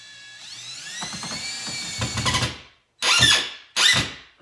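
A power drill drives screws into a wall, starting with a rising whine that speeds up, then two short, loud bursts of spinning and squealing separated by silence.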